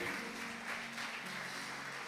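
Faint, distant congregation applause at a church service, a soft continuous wash of clapping with no distinct individual claps.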